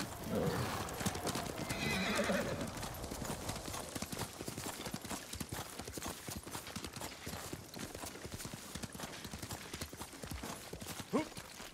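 A horse in the video game Ghost of Tsushima neighs loudly, then its hooves clip-clop in a quick, steady rhythm that carries on throughout, heard close up.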